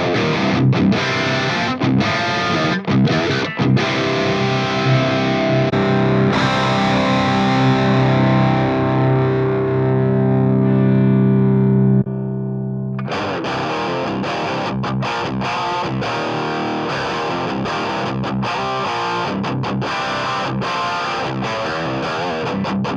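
Distorted electric guitar through an Axe-Fx III with greenback cab simulation plays heavy palm-muted riffs and sustained crunchy chords, loud and close without talking, the tone shifting partway through.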